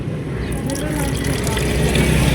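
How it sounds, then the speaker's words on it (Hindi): Several glasses are filled with a drink at a home dinner: liquid pours in a continuous splashing stream that grows slightly louder, while people talk over it. "गिलास भर रहे सारे"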